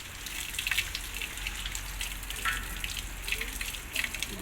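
Tap water running steadily in Bursa, Turkey, a continuous broadband gush with occasional splashy spikes, close and fairly loud with no talk over it.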